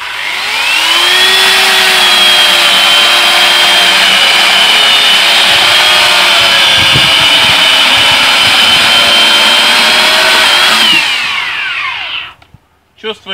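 A Minsk MT-3 2800 W electric chainsaw runs loud and close with a steady high-pitched motor whine for about eleven seconds, then spins down as it is switched off, followed by a few brief knocks.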